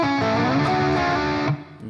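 A distorted electric guitar plays a slow bar of a shred riff, with a note, a position-shift slide and a double stop, sustaining loudly before cutting off near the end.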